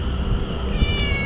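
A cat on a mountain trail gives a single short meow close by, over a steady outdoor background hum.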